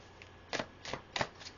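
Tarot cards being shuffled, with three distinct riffling bursts in quick succession, close and fairly loud against a quiet background with no talking.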